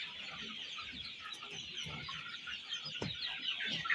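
Two-week-old chicks at a poultry farm cheep in a dense, continuous high chorus, close and steady, with occasional thumps beneath.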